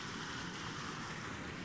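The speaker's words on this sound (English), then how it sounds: "Back here behind this waterfall" Constant rushing water from a video game waterfall pours steadily in a dense, even hiss without pause, close by.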